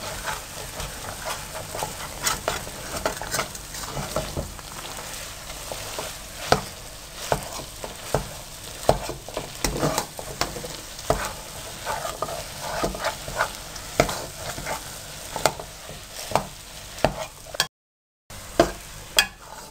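Makhadi halwa roasting in a pan over low heat, stirred steadily throughout with a soft continuous sizzle and repeated scraping strokes of the spoon, close and moderately loud, with a short dropout near the end.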